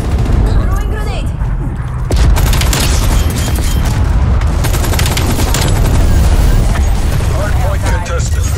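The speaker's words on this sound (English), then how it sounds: "Throwing grenade." A grenade explosion during a Hardpoint match on the Moscow map in Call of Duty Cold War, a loud boom at about two seconds amid dense, continuous gunfire and battle noise, with voices talking in the mix.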